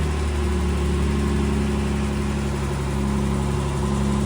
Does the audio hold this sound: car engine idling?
yes